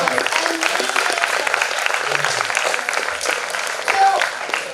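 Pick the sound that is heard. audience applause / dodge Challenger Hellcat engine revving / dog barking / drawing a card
audience applause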